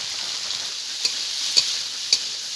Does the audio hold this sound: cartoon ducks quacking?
no